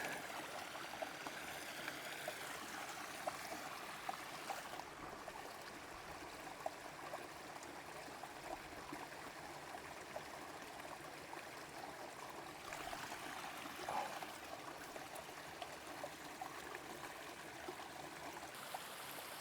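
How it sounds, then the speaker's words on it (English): A mountain stream near Beinn a Chleibh in the Scottish Highlands, where a water bottle is being topped up, babbles and trickles steadily and close up for the whole stretch, with no voices. "So I'm going to top up my water bottle here."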